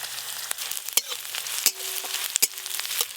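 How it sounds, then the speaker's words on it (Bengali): Whole cumin, dried chillies and chopped onion frying in hot oil for dal, a steady close sizzle broken by several sharp clinks and scrapes of stirring. "ভেজ ডালের জন্য গোটা জিরে, শুকনো লঙ্কা ফোড়নে দেব, পেঁয়াজ কুচি, কয়েকটা রসুনের কোয়াও দিয়ে দেব।"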